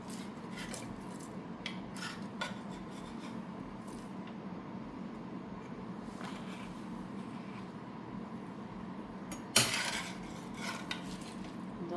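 Fried king fish is lifted from the pan into a serving dish with quiet scraping and light clinks of a utensil against metal, then one sharper clatter of cookware.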